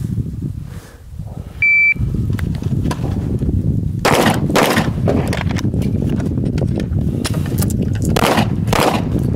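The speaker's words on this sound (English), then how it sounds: "Follow-up shot." Sharp gunshots ring out at a shooting competition, several cracks spaced a second or so apart after a brief timer beep, loud and close against outdoor background noise.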